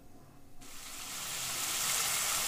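Cauliflower fry sizzles in a pan as it is stirred. The hiss swells from quiet to a loud, steady crackle and holds there.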